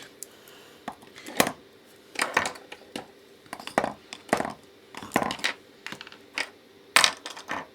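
Fountain pens are put away and a desk is tidied, with a series of close, sharp clicks, taps and small clatters coming in irregular bursts over quiet background and no talking.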